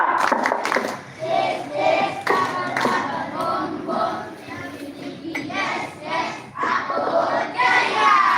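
Children at an elementary-school Scout camp in Padang clap through the 'tepuk ceria' routine, sharp hand claps in quick rhythmic bursts, with children's voices and an adult leader's instructions throughout.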